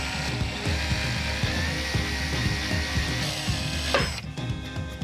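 A drill boring slowly into a round piece of wood for removable partitions, producing a steady, close whirring grind with rhythmic chatter, ending in a brief higher screech as the bit breaks through; no voices.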